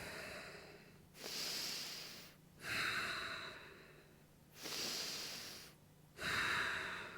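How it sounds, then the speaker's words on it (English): Slow, deep breaths during a yoga chair pose in a home workout, four long airy inhales and exhales alternating at an even pace, close and soft, with no talking. "We're here for a couple more breaths."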